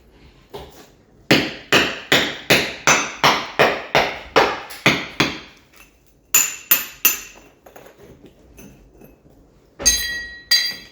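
Loose concrete step tread blocks at a doorway are struck repeatedly, producing a run of a dozen sharp, loud hard knocks in steady rhythm, then a few more blows after a pause, with a final scraping clatter.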